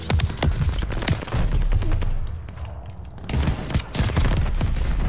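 Video game bombing run: heavy explosions and rapid gunfire crowd together, loud and close, easing into a quieter rumble midway before another dense barrage of blasts and shots.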